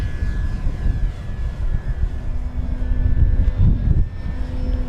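Dynam PT-17 Stearman RC model biplane flying overhead outdoors, its electric propeller drone steady and fairly loud with gentle rises and falls as it maneuvers, including an inverted pass.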